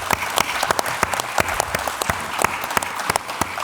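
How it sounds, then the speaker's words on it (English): Applause from a symposium audience in Thessaloniki, a dense crowd clapping with sharp individual claps standing out, steady and fairly close throughout. "Let's give Iro a round of applause."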